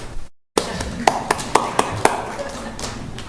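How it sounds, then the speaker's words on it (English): Applause at a city plan and zoning commission meeting welcoming a new staff member: a handful of sharp, scattered claps in a room after a brief gap, fairly close and spaced out rather than a full ovation. "she should enjoy the applause"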